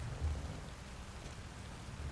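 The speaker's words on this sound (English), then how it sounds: "How is it raining?" Steady rain falls in the video game Satisfactory, a soft, even hiss of drops with a low rumbling undertone, faint and continuous with nothing else over it.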